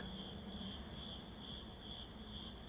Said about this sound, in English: Crickets are chirping